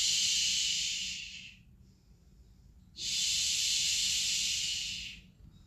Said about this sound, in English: Exhale, shh, if you can